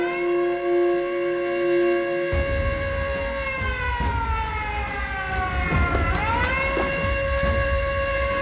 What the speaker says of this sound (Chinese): 发战斗警报！ 发战斗警报！